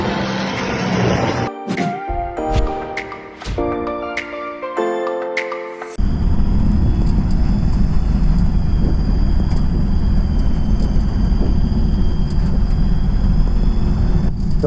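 A light aircraft takes off from a golf course. After several seconds of choppy tonal sounds, a loud, steady engine roar at full power starts abruptly and holds without letting up, close and dominant.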